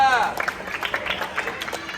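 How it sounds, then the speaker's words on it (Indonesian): A group receives applause at a group competition, with crowd clapping and cheering building after a short voice, then continuing in uneven bursts at moderate loudness. "Kasih tepuk tangan untuk kelompok 2."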